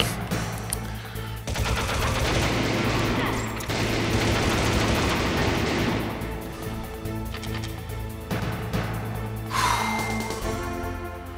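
Rapid, loud bursts of automatic gunfire from the video game Metal Gear Solid, sustained volleys with brief pauses and sharp impacts, heard alone without talking.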